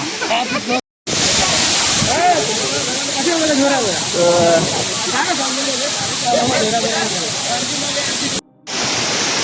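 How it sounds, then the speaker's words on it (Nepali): A steep waterfall gives off a steady, broad rushing roar throughout, with people talking over it and two short breaks of silence. "नमस्ते झरना"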